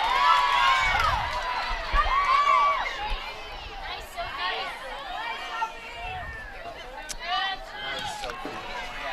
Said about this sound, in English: But again, you hear the crowd.